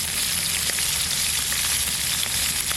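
Hilsa fish frying in mustard oil, a dense, loud, unbroken sizzle heard close and alone for a few seconds.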